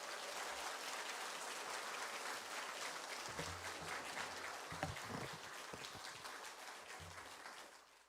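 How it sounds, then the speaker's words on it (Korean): A church congregation gives warm applause to welcome an elder to the front, a continuous, fairly soft wash of clapping from a crowd that gradually tapers off. "오늘 우리 장로님 나오실 때 뜨거운 박수로 맞아주세요"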